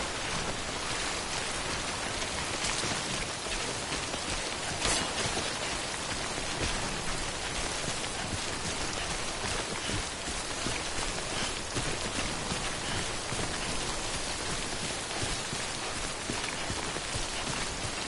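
Timefall rain falls steadily in the video game Death Stranding, a dense continuous patter of drops on surfaces, loud and even throughout with no speech.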